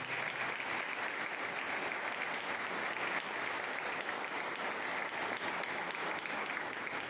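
An audience at a book presentation on criminal policy in Mexico gives a dense, even round of applause, fairly quiet and distant, holding steady throughout with no speech over it.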